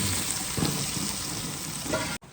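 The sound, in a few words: tempering sizzling over jowar dhokla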